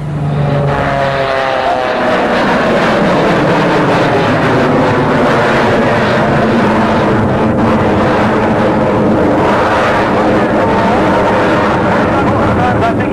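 A loud roar of an airplane engine at an airshow in Sussex, New Jersey sweeps past, the pitch sliding downward as it passes close by, then continuing as a broad rushing drone.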